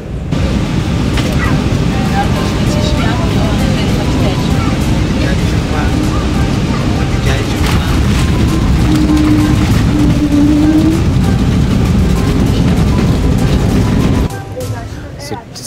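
An Air Peace airliner taxis after landing at Kano, heard from inside the cabin as a steady, loud engine rumble and roar that goes on for a long stretch and drops away near the end.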